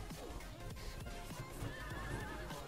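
Horses whinny in the Conan Exiles video game, several short neighs repeating over a dense, busy background with hoof clatter, moderately loud.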